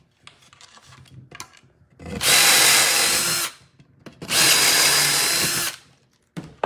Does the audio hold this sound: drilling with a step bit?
yes